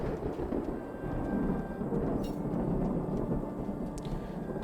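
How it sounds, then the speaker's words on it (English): Thunderstorm in the Songs of Syx game, a low rolling rumble of thunder with a steady wash of rain, continuous and moderately loud. "Nice storm is set in."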